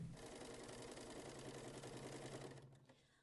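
A sewing machine fitted with a knit presser foot runs a dense stitch on knit fabric, a steady rapid mechanical chatter that holds close and loud for nearly three seconds before slowing and stopping.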